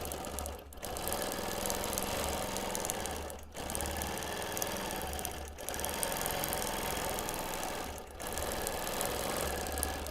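Free motion quilting of a giant flower on a hexie quilt, the sewing machine stitching in steady rapid bursts with brief pauses roughly every three seconds, close and continuous with no talking.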